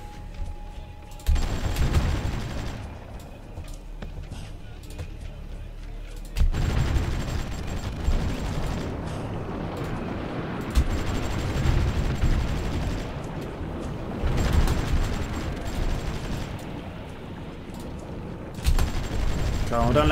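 Artillery and gunfire in the strategy game Supreme Ruler Ultimate, set in Sierra Leone, arrive as repeated loud bursts and rumbling booms at irregular intervals over about twenty seconds, with a voice talking at times.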